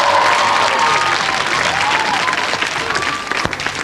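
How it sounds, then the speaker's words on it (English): Studio audience applause on a 1990 music television show, loud and sustained throughout, a steady dense roar of clapping with some crowd noise mixed in. "Let's have a round of applause, please, for our guests in Japan."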